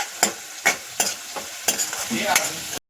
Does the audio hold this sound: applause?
no